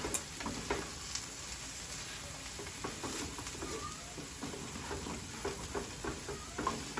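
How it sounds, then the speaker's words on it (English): Shrimp scampi sauce with Parmesan being stirred in a pan, giving soft scraping and light sizzling with scattered clicks of the utensil, steady and close, with no talking. "we are going to stir this together because it's starting to stick"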